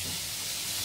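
Soybean oil hisses and sizzles steadily as it is poured into a hot pot, a brief burst of continuous bright frying noise.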